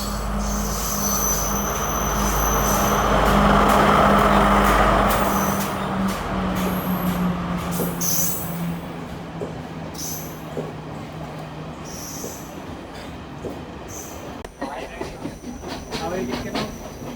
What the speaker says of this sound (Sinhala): 12:25 ට්‍රේන් එක එනවා කියලා.